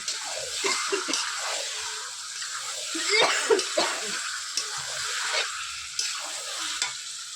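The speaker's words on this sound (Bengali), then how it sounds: "সেই মাংসটা এবার ঢেলে দেবো দিয়ে ভালো করে কষিয়ে নেব" Marinated chicken stir-fried in a pan for a village-style potato chicken dish, a dense, steady sizzle close up with scraping stirs and a few sharper knocks, no talking.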